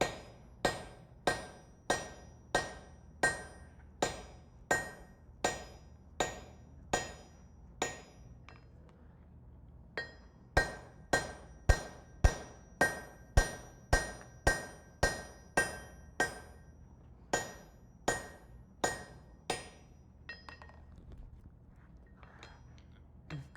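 At a forge during a smithing conference demonstration, a blacksmith hammers a punch into hot steel while fullering: a steady run of sharp, ringing strikes, close and evenly spaced, with one brief pause partway through and no talking.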